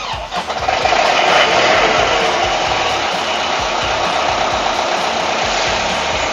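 A PDS 175 diesel screw compressor engine cranks and catches, then settles into a loud, steady, high-pitched running drone that fills the rest of the clip.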